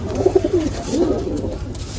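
Pure white golden pigeons give a couple of soft, low throaty coos up close, each a short rolling burst, with no talking.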